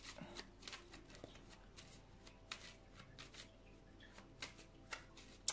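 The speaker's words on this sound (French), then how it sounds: "Petit tirage carte." Playing cards being shuffled for a tarot-style reading, with quick papery riffles and taps repeating in close, quiet bursts of roughly even rhythm.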